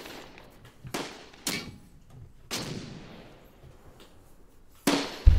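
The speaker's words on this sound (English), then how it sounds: "That's a round breaking the sound barrier." A round breaks the sound barrier in a World War II tank battle game, giving sharp, distant cracks and booms: several isolated bursts spaced a second or two apart, each fading out quickly over quiet background.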